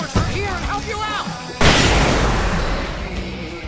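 Fireworks go off in the video game Alan Wake Remastered, a sudden loud boom followed by a long crackling rumble, after a stretch of game speech and effects.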